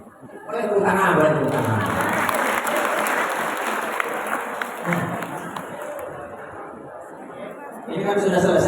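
Sustained audience applause and clapping fills a hall during a religious sermon, rising sharply and holding steady for several seconds with crowd chatter mixed in, then easing as a voice returns.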